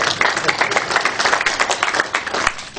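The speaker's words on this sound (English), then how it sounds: "You can clap," Conference audience at a technical talk clapping, a dense burst of many hands at close range, steady and lively for a few seconds before tapering off.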